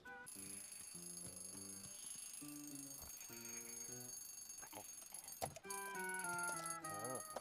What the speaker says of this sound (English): How do you sleep through that alarm? There are some alarms you can sleep through. That one is loud as all shit.